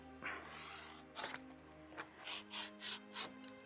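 Rotary cutter or blade trimming a foundation-paper-pieced quilt fabric piece, a few short rasping cuts in quick succession, close and fairly quiet with no talking.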